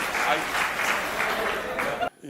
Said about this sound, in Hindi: एक बार हाथ उठा के ताली बजा के बुला लो।